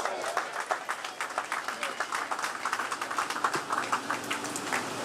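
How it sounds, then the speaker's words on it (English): An audience applauds at a trade union's annual conference of delegates, a dense, steady patter of many hands clapping in a large hall. "I hear a clap, Comrade."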